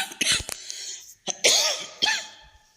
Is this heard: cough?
yes